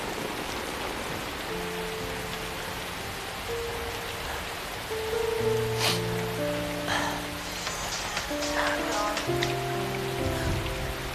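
Rain falling steadily outdoors as a broad hiss of drops on surfaces, continuous throughout, with faint background tones and no talk.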